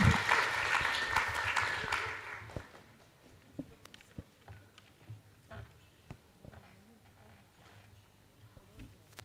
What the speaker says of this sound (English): very big round of applause.